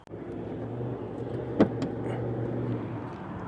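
Bricklin SV-1 gullwing car engine running close by at a steady low idle, with one brief sharp knock partway through and no voices.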